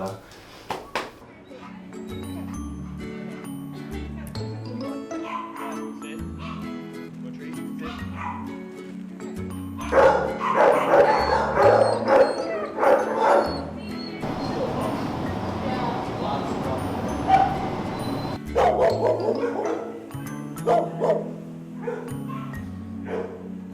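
Dogs at an animal shelter, mostly pit bull terriers, bark, yip and whimper in a busy kennel. Some are close and others farther off, with a loud burst of barking in the middle and people talking throughout.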